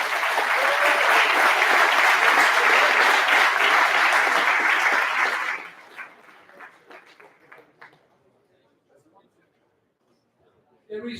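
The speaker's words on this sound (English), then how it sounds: "I think we can applaud him one more time" Loud, dense applause from a lecture audience thanking a speaker after a Formula Student design and manufacturing talk. It holds steady for about five seconds, then quickly thins to scattered claps and dies into near silence.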